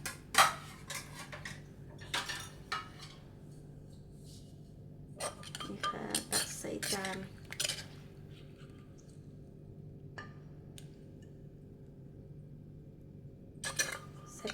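Som tam papaya salad scooped from the mortar onto a plate, with a few close clinks and scrapes of a spoon against dishware separated by stretches of near quiet.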